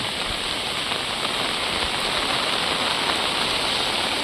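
Steady, heavy rain pours down continuously over Konkan rice fields, a dense hiss of drops hitting surfaces with no pauses or voices.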